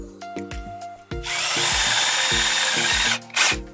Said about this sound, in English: We're drilling through here